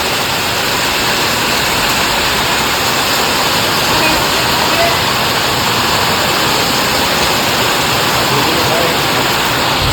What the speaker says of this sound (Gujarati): જુનાગઢમાં મિત્રો ફૂલ વરસાદ છે, વાત પૂછોમાં હવે ધોધમાર આવે છે અત્યારે